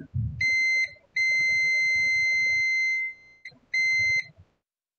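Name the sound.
electronic tester beeping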